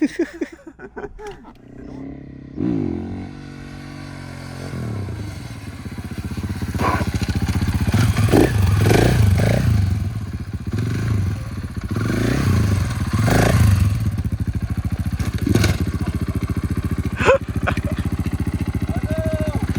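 After a few brief voices, a brand-new supermoto motorcycle engine idles and is revved in repeated throttle blips, its loud rumbling growl rising and falling close by.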